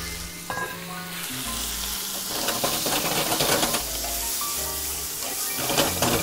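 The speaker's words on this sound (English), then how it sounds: "Going to add in our beef before it browns up." Beef sizzles loudly in clarified butter in a hot pan, a continuous close crackling fry with stirring and scraping sounds throughout, with no voices.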